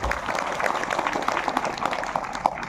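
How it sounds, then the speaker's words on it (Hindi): A church congregation claps together, a dense steady patter of hands lasting throughout, with a few voices mixed in underneath. "एक बार ताली बजाएंगे।"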